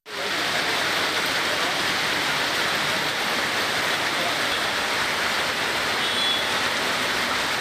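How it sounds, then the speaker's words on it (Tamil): Heavy monsoon rain pours steadily in Tamil Nadu around a bus stand, a dense, loud, unbroken hiss of downpour with no voices. "சித்தூர் பேருந்து நிலையம் உள்ளிட்ட இடங்களில் மழை பெய்தது."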